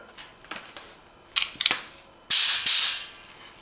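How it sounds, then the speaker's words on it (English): Parkside PDLD 10 A1 digital tyre inflator connector being pressed onto a tyre valve and locking, heard as a few sharp close clicks and snaps, followed by a louder hissing burst of air. "And the connection, just press and it will lock, releasing the valve for the air."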